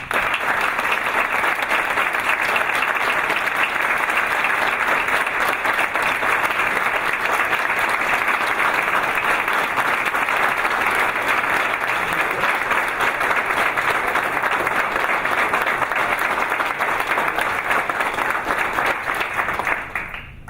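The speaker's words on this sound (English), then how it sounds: "I think we owe him a round of applause" An audience at a trucking industry association event gives sustained, steady applause for Bill Graves, dense clapping that holds evenly for about twenty seconds before tapering off at the end.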